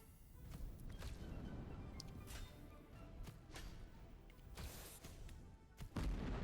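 Bombs explode in the boss-battle game Battle Shadow Arena on a Steam Deck: several faint, dull booms land at uneven intervals over a low rumbling background.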